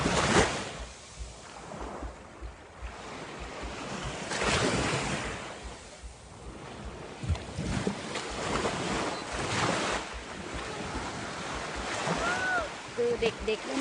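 Sea waves wash onto a beach where children play in the water, with continuous surf and gusting wind buffeting the microphone, and voices heard faintly through the noise.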